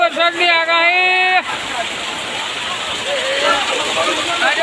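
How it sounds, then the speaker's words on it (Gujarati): Heavy monsoon rain pouring down in Patan, Gujarat, a dense steady roar of falling water that takes over after a brief voice at the start, with faint voices underneath. "આજે બહુ જ ભારે વરસાદ પાટણની અંદર."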